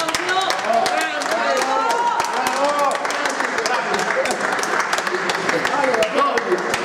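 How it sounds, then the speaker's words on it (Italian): Audience applause for a person at a live Guinness record event, clapping mixed with crowd noise and a voice talking over it throughout, fairly loud and continuous. "un grandissimo applauso a Claudio"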